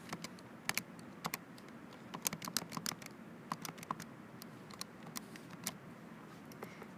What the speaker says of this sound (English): And then we're going to type it in our calculator.